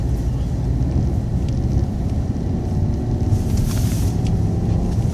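Steady road rumble and tire noise from a car driving on Continental Extreme Winter Contact tires, a dense low drone heard from inside with no voices.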